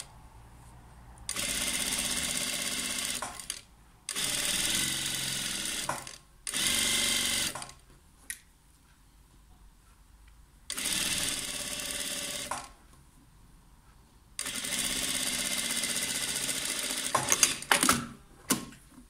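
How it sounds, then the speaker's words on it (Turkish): Sewing machine stitching a blouse sleeve in several bursts of fast, whirring needle action, separated by quiet pauses. "Tekrar şöyle yukarıdan dikiyorum."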